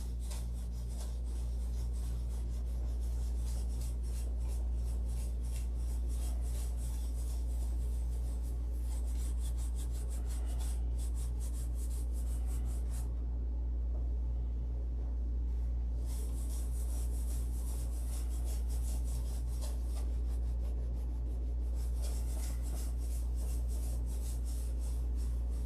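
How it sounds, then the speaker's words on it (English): A model airplane being sanded by hand: continuous rhythmic rasping strokes, quiet and close, over a steady low hum, with a brief pause midway and no speech. "And this airplane's finished, and I'm still sanding."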